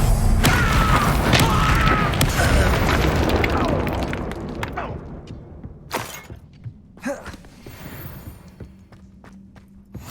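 A Bombarda spell explosion in Hogwarts Legacy, a loud booming blast with rumbling debris that decays over several seconds, followed by scattered thuds and footsteps.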